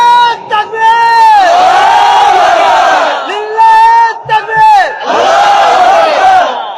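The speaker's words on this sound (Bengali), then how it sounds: "দেন তাকবীর দেন।" A crowd at a religious gathering shouts the takbir in loud, drawn-out unison calls, three big waves of massed voices rising and falling with brief gaps between them.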